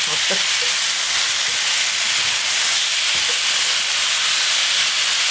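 Pork and squid bulgogi stir-frying in a hot pan gives a loud, continuous hissing sizzle with a few faint clinks early on, steady throughout and close up, with no talking.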